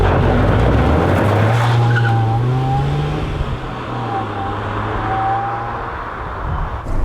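Honda Prelude with a VTEC engine, revving hard as the tone climbs and falls, with tyre squeal and skidding noise, loud and close for several seconds.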